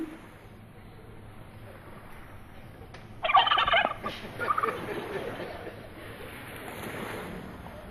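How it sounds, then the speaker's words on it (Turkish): A turkey lets out a loud, rapid gobble partway through, then a shorter second gobble, with faint rushing water or wind noise in the background. "Hindi bu."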